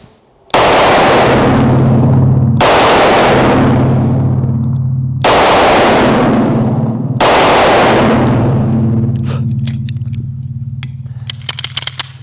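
A Staccato 2011 pistol fires four loud, close shots of 115 grain Blazer ammunition, each a sharp crack with a ringing tail, spaced about two seconds apart, followed by faint clinks.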